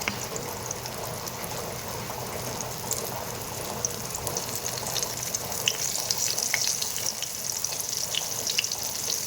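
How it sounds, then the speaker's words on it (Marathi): Bombil fish fry in oil in a pan with a continuous crackling sizzle, moderately loud and close, with scattered sharper pops throughout and no talking. "असे प्रकारे आपण सर्व बोंबील फ्राय करणार आहेत"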